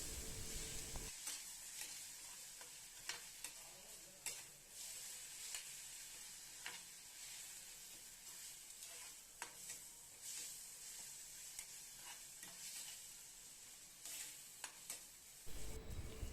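Onions with ginger garlic paste sauté in a pan for a goat gravy, giving a soft continuous sizzle with intermittent stirring clicks and scrapes, quiet and close, no voices.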